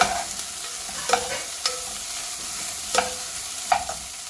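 A spoon stirs black rice vegetable pulao in a pan, giving a few scraping strokes spaced by pauses over a soft steady sizzle.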